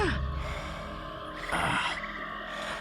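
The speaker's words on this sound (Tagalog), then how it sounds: "Malalim na paghinga yun" Deep, heavy breathing heard in a tense night setting, a slow breath drawn in and pushed out with a louder rasping exhale midway, close and alone over a low background drone.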